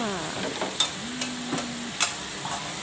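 Zucchini stir-frying in a pan makes a steady soft sizzle, broken by a few sharp clinks of a utensil against the pan and a faint tonal hum, with no one speaking.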